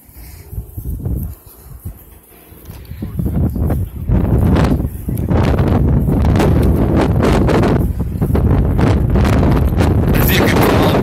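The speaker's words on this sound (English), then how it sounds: "As you can tell, guys, the wind is still bad." Strong gusts in the aftermath of Hurricane Irma roar and buffet the microphone outdoors, swelling from lighter bursts into a sustained loud rush.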